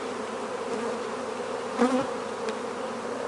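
Honeybees buzz around an open hive during a queen release, a close, dense, continuous drone with a few louder passes as single bees fly near.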